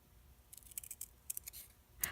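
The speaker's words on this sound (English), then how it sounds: "I can use my Snap It Up paper snips. These are super sharp." Sharp paper snips cutting through paper, heard as a run of quick crisp snips, several in a row and then one last louder cut, close by with no one talking.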